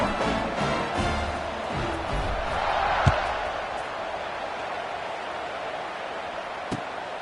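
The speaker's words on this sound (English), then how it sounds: "this crowd is buzzing after that last score" A football stadium crowd buzzes after a touchdown in a Colorado game, a broad steady murmur of many voices with a sharp thud near the middle and a play-by-play voice talking over it.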